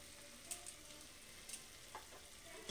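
A paste of melon seeds, cashews and white sesame sizzles faintly in a pan for a katla fish rezala, soft steady frying with a few light scraping clicks from stirring.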